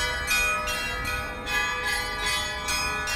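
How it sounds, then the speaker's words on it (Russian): Church bells ring in a steady repeating peal, bright and resonant, with overlapping tones sustaining between strikes and no voices. "Под звон колоколов."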